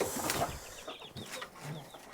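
Hens cluck softly in an off-grid backyard chicken coop in winter, a few scattered short calls and faint rustling, quiet and close with no one talking.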